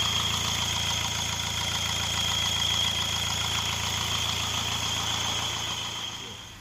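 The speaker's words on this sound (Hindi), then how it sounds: "इंजन जो बैक कंप्रेसर मार रहा था" Mahindra Bolero DI diesel engine idling steadily with a rough knocking rhythm, attributed to back compression after overheating from low coolant; a constant close mechanical drone, loud and alone throughout, fading slightly at the end.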